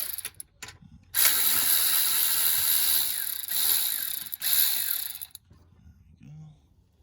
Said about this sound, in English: I have an extended electric impact, make it a lot easier.